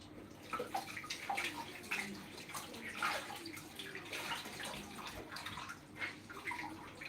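Water runs steadily from a tap while a jar is rinsed for homemade sauerkraut, a quiet splashing stream with small gurgles and uneven spatters.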